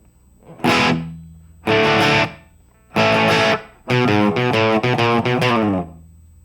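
Distorted electric guitar plays the second verse riff of a song: three separate sustained chord hits, then a fast run of choppy single-note and chord picks, loud and close with no talking.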